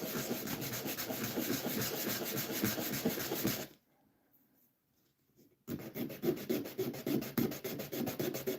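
Steady back-and-forth rubbing of sandpaper on construction lumber using a shop sanding board, rhythmic and close, stopping for about two seconds of near silence before resuming.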